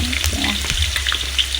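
Potatoes frying in hot oil in a large wok give off a steady, dense sizzle with crackling pops all the way through, and there is no voice.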